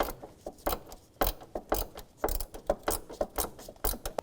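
Ratchet wrench with a 7mm socket loosening a hose clamp at the intercooler on a 2001-2007 Volvo V70, giving irregular bursts of sharp metallic clicks, close and fairly loud, with no talking.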